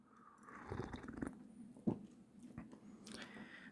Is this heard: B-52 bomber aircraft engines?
no